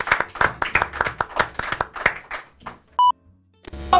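A handful of people clap in a loose, close rhythm for a few seconds, then a short electronic beep tone sounds, followed by a brief noisy burst.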